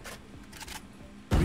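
Brief mechanical clicks and rattles of a weapon being reloaded in Valorant, faint and quick, ending in a louder metallic snap.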